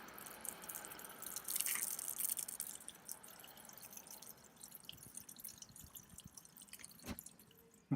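Water runs from the cold tap in a caravan, a thin trickling splash with occasional drips and one sharper splash near the end, fairly quiet and alone.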